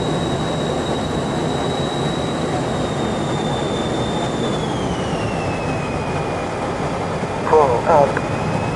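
A jet aircraft makes a vertical takeoff during airshow practice, a loud, steady roar with a high whine that slides down in pitch; a voice briefly calls out near the end.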